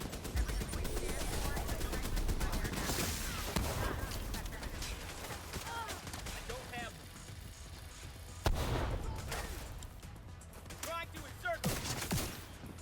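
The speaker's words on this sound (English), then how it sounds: "Looks like he shot with that pistol" Pistol and other gunfire in The Division 2 on Xbox One X, dense bursts of shots running almost throughout, loud and busy with a sharp burst near the end, with voices talking over the action.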